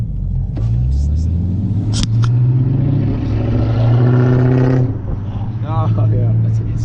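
Dodge muscle car engine revving up hard in a deep, meaty rumble, close and loud, with voices talking over the throttle blips.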